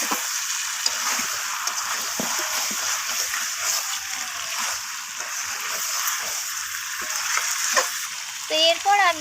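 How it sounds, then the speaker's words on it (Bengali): Green peas and chicken stir-fry in a hot pan with a steady, close sizzle and occasional stirring scrapes throughout, and a voice briefly cuts in near the end. "মটরশুঁটিটা দেওয়ার পর আমি এখানে আবারও এইভাবে কষিয়ে নিচ্ছি"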